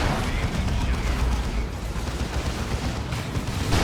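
In a Dawn of War 2 battle, gunfire hammers a Terminator unit as a continuous, dense barrage of rattling shots and blasts holds steady at a loud level throughout.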